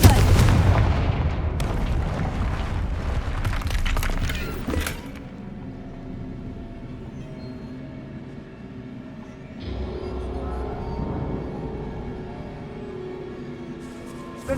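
A Confringo fire spell in Hogwarts Legacy bursts loudly with a booming, crackling blast that fades into a low rumbling tail and quieter game ambience.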